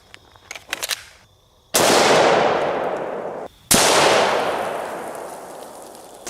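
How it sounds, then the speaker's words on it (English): AR-15 rifle firing 5.56 green tip rounds at a stone, two loud close shots each ringing out in a long decaying echo, preceded by a few faint clicks. "we're going to start out with an AR-15, and we're going to be loaded up with some green tip"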